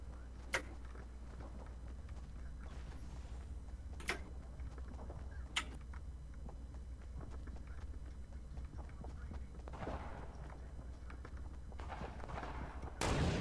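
Sparse sniper rifle shots ring out in a video game, a few sharp isolated cracks spaced seconds apart over quiet background ambience, fairly faint and distant.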